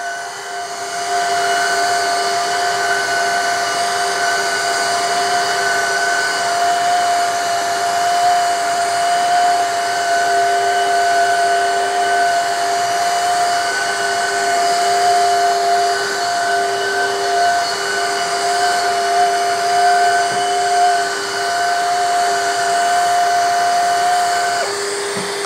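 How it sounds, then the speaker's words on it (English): A Shark WD201 HydroVac cordless vacuum mop cleaning an area rug gives a loud steady motor whine and airy hiss that runs unbroken for about 25 seconds, close up and without talking. "I've got to go back and forth a few times to kind of clean the area rug."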